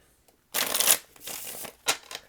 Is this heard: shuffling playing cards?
yes